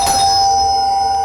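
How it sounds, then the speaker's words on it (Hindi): A doorbell rings in a home, a bright electronic ding with sustained ringing tones that fade over about a second, loud and close with no talking. "कब से घंटी बज रहा है"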